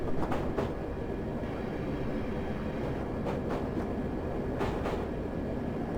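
A London Underground D78 Stock train in Train Simulator 2018 coasts downhill on the approach to Ealing Broadway, a steady rumbling roll with rhythmic clickety-clack of wheels over rail joints recurring several times, no voices.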